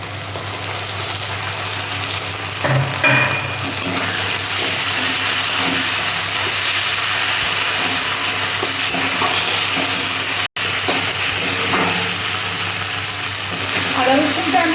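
Ginger garlic paste hits a pan of browning onions, giving a steady, close sizzle and frying hiss with occasional stirring scrapes, continuous throughout with no talk.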